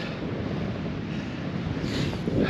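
Ocean waves surge against a cliff as strong wind buffets the microphone, a continuous close roar that swells louder near the end.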